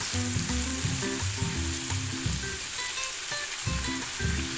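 Spice masala frying in a pan for pomfret fish curry, a steady close sizzle with soft bubbling and occasional scrapes of stirring, no voices.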